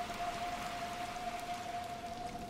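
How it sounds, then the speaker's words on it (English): Steady rain in the Little Nightmares II game world, a soft even wash of falling water with a faint sustained tone running through it, no voices. "Come on, let's get out of the rain."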